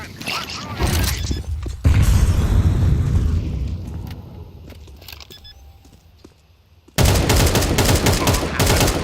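Grenade blast and bursts of gunfire in a Counter-Strike-style shooter match, loud dense crackling volleys, a booming explosion near two seconds that decays, then a sudden resumption of intense rapid fire.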